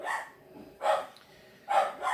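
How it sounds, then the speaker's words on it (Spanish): A dog barks three times in short, evenly spaced bursts, fairly close and clear against a quiet background, with no talking. "Independientemente que tengamos un perro ladrando"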